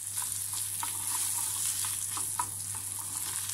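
Tomato paste frying in butter in a pan: a soft, steady sizzle with light scraping stir sounds, close and quiet, with no talking.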